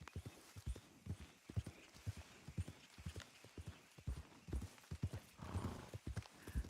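Rhythmic clip-clop of horse hooves in Red Dead Redemption 2 at a steady walking pace, followed by a horse's neigh near the end, clear and close.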